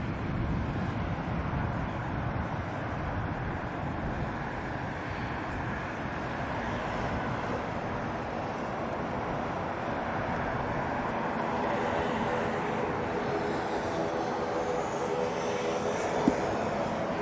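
A fixed-wing airliner, an Air New Zealand flight bound for Blenheim, takes off at Auckland Airport, its engine roar a broad, steady rumble that holds strong and even for the whole stretch, with no talk over it.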